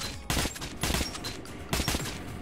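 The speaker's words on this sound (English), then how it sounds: "So let's just shoot this guy." Bursts of rapid gunfire from the video game Metro 2033 Redux ring out in quick clusters, loud and close, with brief gaps between volleys.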